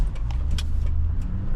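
A Toyota Sequoia with new front brake pads and rotors rolls slowly in traffic without stopping, giving a low steady road and engine hum from inside the cabin, with a few light rattles over it.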